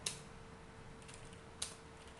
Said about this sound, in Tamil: டைப் பண்ணின்னு தான் இருக்கேன்